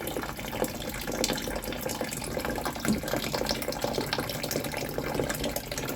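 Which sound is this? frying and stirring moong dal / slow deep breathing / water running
water running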